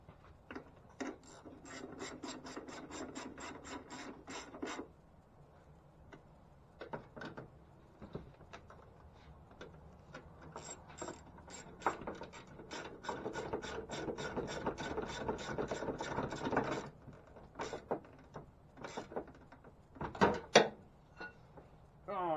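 A ratchet clicks in rapid, repeated bursts while tightening the strut bolts on a 2017 Ford Fiesta, each run of sharp pawl clicks separated by short pauses and faint rubbing noises, heard up close and fairly quietly.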